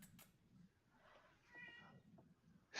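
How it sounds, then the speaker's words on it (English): A faint cat meows in the background of a quiet room, with soft, drawn-out mewing calls of low level. "Distracted by the cat in the background."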